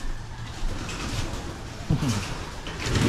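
Racing pigeons coo steadily in a loft, a dense flock murmuring close by with no talk over them.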